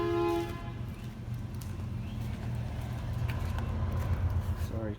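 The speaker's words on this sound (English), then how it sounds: "Sorry, train started coming through," Train rumbling past with a horn sounding near the start, a steady loud low roar of railcars continuing throughout, close by outdoors.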